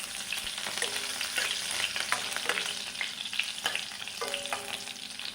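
Mustard seeds, garlic cloves and green chillies sizzle and crackle in hot oil in a pan while being stirred, with steady close frying hiss, scattered popping and spatula scrapes, no voices.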